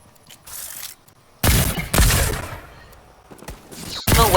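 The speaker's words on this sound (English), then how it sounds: "Where they're shooting me from over" Gunfire in the Fortnite battle royale video game: bursts of shots with a loud volley around the middle and another at the end, amid quieter game sounds.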